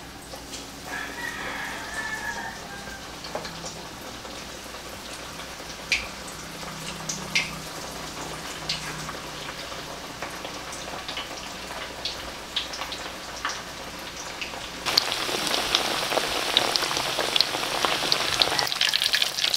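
Chicken Milanese deep-fries in plenty of hot oil, giving a steady, faint crackle and sizzle with scattered pops that grows louder and denser toward the end, with no voices.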